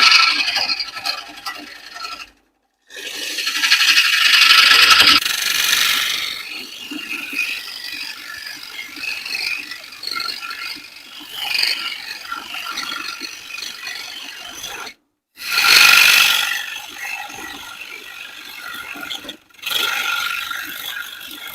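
A wood lathe turns a bowl blank while a tool flattens its face, giving a rough, gritty scraping and chattering with uneven swells. The sound is cut by a few brief silent gaps and is close and fairly loud, with no talk.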